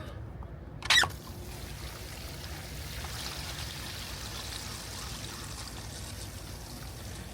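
RV gray tank water drains through an opened Valterra tank valve, a steady close rushing pour that begins after a brief squeak and clack of the valve and continues evenly.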